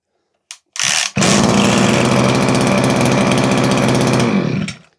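A lawn mower fitted with an Easy Start recoil starter is pulled, fires and roars into a loud, steady idle close by, then cuts off after a few seconds.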